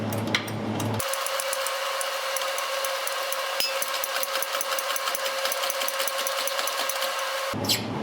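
A hydraulic press is pumped to push a suspension part into place on a buggy built from Subaru and Toyota parts, giving a close, steady mechanical buzz with rapid, regular pulsing strokes and no talking.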